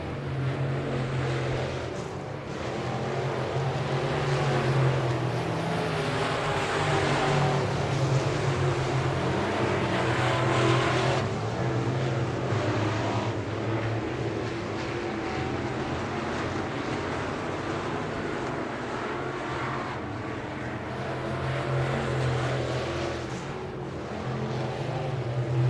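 Dirt track race cars at Victory Lane Speedway in Manitoba, Canada, make a steady, loud engine roar that fills the whole stretch without a break. No voices.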